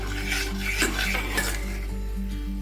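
A spoon stirs a mixture of ghee and oil for Mysore pak, giving a short, close scraping and rubbing against the pan over a steady low background hum.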